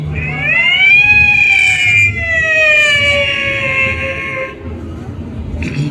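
A voice imitates a wailing police jeep siren, one long tone that rises and then slowly falls, loud and close, with faint background noise.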